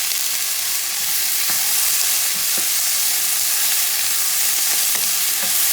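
Chopped mini peppers and chayote with oregano frying for an island-style goat stew, a dense steady sizzle with occasional light knocks and scrapes as the pan is stirred.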